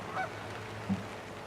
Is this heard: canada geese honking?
yes